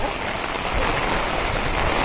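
Heavy rain pours steadily in a dense, unbroken hiss, with wind in the mix, close and loud all the way through, with no pauses.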